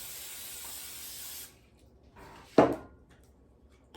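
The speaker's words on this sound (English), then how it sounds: "I'm going to spray my pan first here" A steady hiss of cooking spray sprayed onto a pan for about a second and a half, close by, followed by quiet and a single soft knock.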